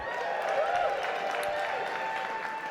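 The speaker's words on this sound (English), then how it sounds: "Hold for Applause" Audience applause at an awards event, a soft, steady wash of clapping from a crowd, fairly distant and low in level, with a faint tonal hum running underneath.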